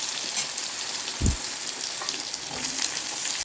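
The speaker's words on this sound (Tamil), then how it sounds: "நம்ம வெங்காயத்தை கொஞ்சம் நல்லா ப்ரௌன் ஆகிற வரைக்கும் வறுத்தள்ளிக்குவோம்" Onions fry in oil with a continuous sizzling hiss and a brief low thump partway through, with no voices.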